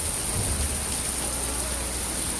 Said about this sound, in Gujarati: જો છે ને જામનગરમાં ફૂલ વરસાદ, ધોધમાર વરસાદ